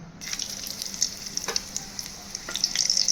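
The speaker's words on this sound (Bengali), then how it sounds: "2টো এলাচ, কিছুটা ডালচিনি আর 4টে লবঙ্গকে থেতো করে নিয়েছি, এগুলোকে দিয়ে দেবো তেলের উপরে" Crushed cardamom, cinnamon and four cloves hit hot oil for a Bengali desi chicken curry. They crackle and sizzle with sharp bright spits, building toward the end, and there is no talk.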